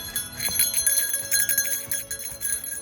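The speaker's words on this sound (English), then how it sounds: "bear bells on our shoes" Small bear bells fastened to hikers' shoes jingle in quick, irregular bursts with each step along an early-morning trail in Banff National Park, close and bright with no talking.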